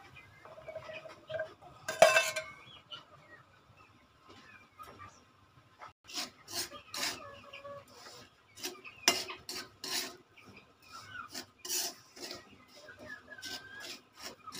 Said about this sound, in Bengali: নুন দিয়ে লোহার কড়াতে ভাজা হবে